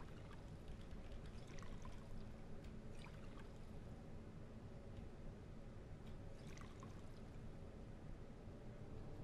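A water bottle fills in the Fallout 4 video game, a faint, steady pouring and trickling wash of liquid lasting several seconds with no talking.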